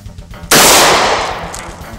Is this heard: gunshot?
yes